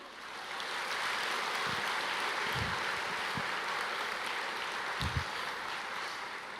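A church congregation applauds during a sermon, a steady, fairly faint wash of many hands clapping that lasts throughout, with a few low thumps and no speech.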